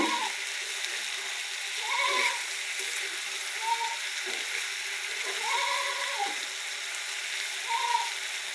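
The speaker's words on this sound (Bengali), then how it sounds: "এই যে ছোটো মাছগুলো এখন দিয়ে দিলাম। এখন ভালো করে নেড়ে ছেড়ে দেবো।" Small mola fish stirred into a spiced mixture in a hot pan for an eggplant and greens curry, giving a steady, soft sizzle with occasional scraping swells and faint talk over it.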